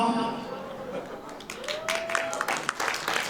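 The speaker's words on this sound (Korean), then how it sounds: "여러분 다시 한번 큰 박수 부탁드리겠습니다" An audience claps at a wedding celebration, with the applause swelling into a broad, continuous patter after a quieter start. Other sounds are mixed in underneath.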